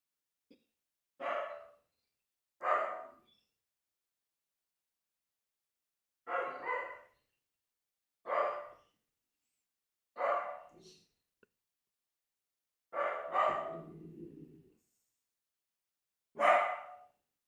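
A dachshund barks in single sharp yaps spread across the stretch, each one separate with quiet gaps between. One bark trails off into a low growl, and the dog sounds fairly close but not loud.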